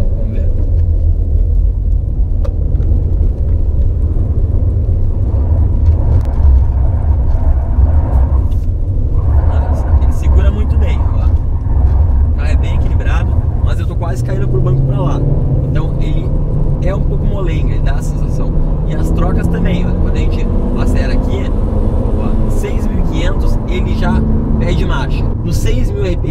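A 2018 Fiat Argo HGT with a manual gearbox revs hard on a test drive, its engine droning loud and continuous inside the cabin while someone talks over it throughout.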